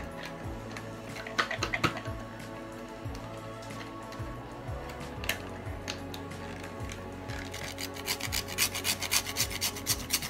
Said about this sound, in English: I'm going to grate some nutmeg.